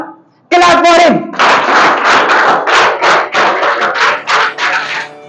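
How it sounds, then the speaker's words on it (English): An audience claps in rhythmic bursts at a prize-giving for a best speaker award, loud and close, following a brief opening voice; the clapping continues steadily with slight swells and dips. "Clap for him."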